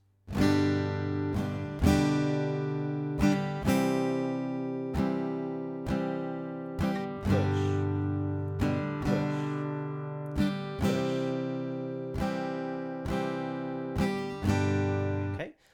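An acoustic guitar strums chords in a steady rhythm, each strum ringing bright and full, with some chords, including a G pushed on the fourth beat, struck early ahead of the beat.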